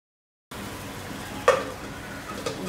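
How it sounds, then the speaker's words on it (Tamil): Pirandai vathal kuzhambu, a tamarind-based stew, bubbles in a pot with a steady soft hiss while a spoon scrapes the pot twice, close and moderately loud. "இந்த குழம்பு வந்து அப்படியே 10 நிமிஷம் கொதிக்கிட்டோம்."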